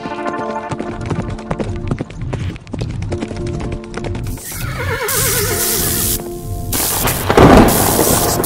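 Horse hooves clip-clop in a steady rhythm while a horse neighs loudly over them. Thunder and rain rumble beneath, and the scene builds to a loud storm crash near the end.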